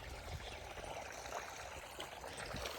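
Irrigation water runs steadily through a farm field in Gujarat, a continuous quiet trickling and streaming wash with faint low rumbling, no voices.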